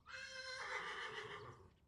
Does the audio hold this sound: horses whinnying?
yes